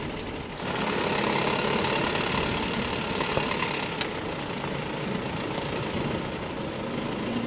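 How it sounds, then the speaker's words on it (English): Steady broadband rumble of a car engine and road noise while driving into the town of Clunes in Victoria, Australia, continuous and fairly loud with no talking. "I'm just driving into Clunes"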